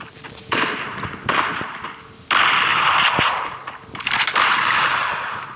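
Bursts of gunfire in a video game, loud and close, with several rapid automatic volleys of about a second each separated by short gaps, then one longer sustained stretch of firing, with no talking over them.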